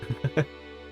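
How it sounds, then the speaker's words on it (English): Three short sucking squelches close together in a Swedish video game, shoes pulling free of thick mud, then quiet. "This is the sound of several shoes getting stuck in the mud."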